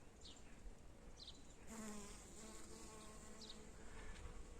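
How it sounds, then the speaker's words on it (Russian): Bees buzzing around blossoming apple trees outdoors, a steady insect drone with brief louder passes as individual bees fly close by, no voices. "Пчелка пыляет яблоньку очень хорошо."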